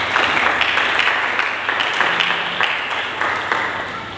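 Loud, dense applause fills a church service for several seconds, many hands clapping steadily together and fading slightly toward the end.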